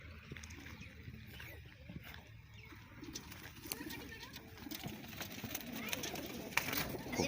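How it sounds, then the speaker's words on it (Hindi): Soft pigeon coos mingle with rustling, fluttering and background noise outdoors at a village brick kiln chimney, faint and intermittent, with some voices nearby. "ये कबूतर यहाँ पर हैं और ये कबूतर भट्टे की चिमनी पर है"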